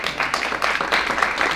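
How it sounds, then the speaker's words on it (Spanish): A conference audience at an audio engineering expo applauds speakers with steady, fairly dense clapping from many hands, moderately loud throughout. "Démosle un fuerte aplauso al ingeniero Julián Antonio Castro Magaña"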